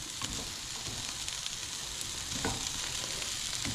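Sausage, broccoli and kale sizzle steadily in a hot pan while being stirred through, a continuous close crackle with occasional soft scraping stirs.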